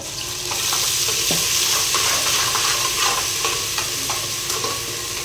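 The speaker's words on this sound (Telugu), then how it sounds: "ఇది మాడకుండా బాగా ఫ్రై అవ్వాలి" Fried onions and ginger-garlic paste sizzle in a pan during biryani preparation, a steady close frying hiss broken by scraping stirring strokes.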